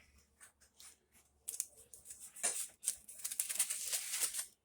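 A knife slicing into a grilled pork steak on a plate, starting with light taps and then turning into a dense, crisp crackling saw of cutting that builds in loudness, heard up close with no speech.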